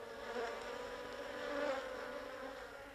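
A steady, dense buzzing of many Carniolan and Buckfast bees swarming close by around hives in a bee house, continuous and fairly loud throughout with slight swells in intensity.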